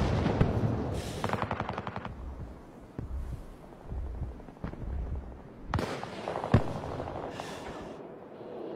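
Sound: sniper gunfire in the video game Battlefield

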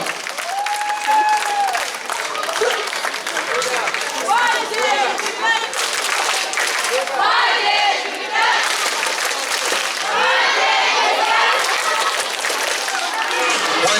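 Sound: audience applause welcoming the 12th squad

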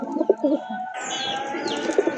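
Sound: pigeons cooing in a cage

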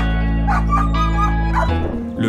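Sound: dog barking

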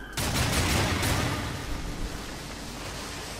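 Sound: gunshots in a video game

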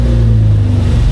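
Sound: Pipistrel Taurus motor glider engine running before shutdown

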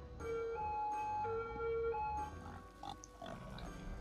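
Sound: pigs on a burning farm in the video game Cities Skylines

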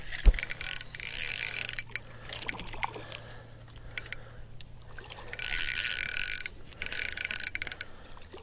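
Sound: fishing reel drag clicking while fighting a rainbow trout

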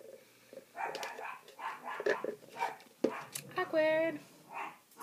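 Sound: dog barking at a kid walking down the street

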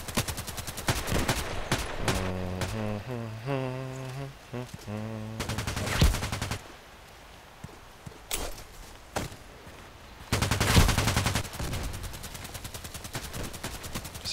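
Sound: Enforcer automatic gun firing in a video game

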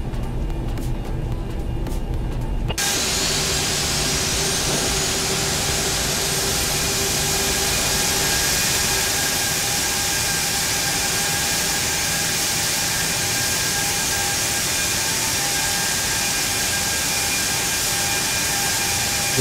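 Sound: jet engines starting on Airbus A340-600 in X-Plane 11 video game

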